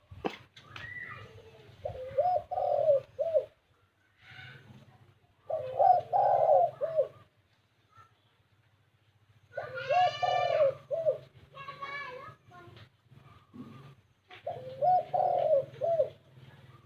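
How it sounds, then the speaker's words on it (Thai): Deep, husky spotted dove coos repeat in short phrases about every few seconds, fairly close and clear, with faint chirps from other birds in between. "อันนี้ก็จะเป็นเสียงบักซอยดาวคู่อ่างนะครับ"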